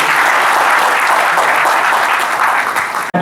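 A conference audience gives a dense, steady round of applause, loud and continuous for a few seconds before cutting off abruptly at the end, with no talking over it.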